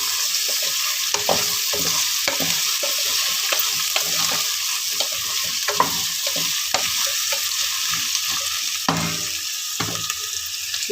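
Potatoes and capsicum frying in a pan on a high-heat stove are stirred. A steady sizzle runs under repeated scraping strokes of the spoon, with no talking.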